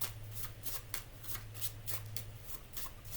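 Tarot cards being shuffled by hand, a rapid series of soft riffling bursts in a steady rhythm, close and quiet over a low background hum.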